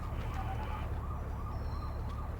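A wailing ambulance siren cycles up and down repeatedly, somewhat distant, over a low rumble of traffic.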